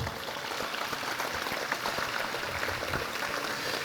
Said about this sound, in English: How about a round of applause for him for that?